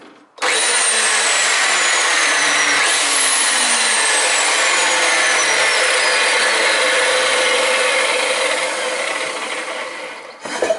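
A repaired angle grinder after a fixed broken power wire, running steadily and loud for about ten seconds with a whining motor note and a slow pitch sweep, then winding down at the end.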